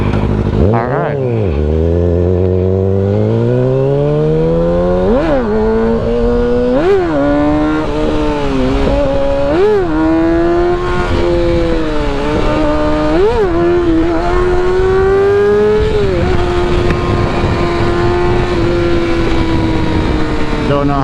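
A Kawasaki motorcycle engine revs hard and close during a wheelie, its pitch climbing and falling in repeated surges before holding a steady high drone.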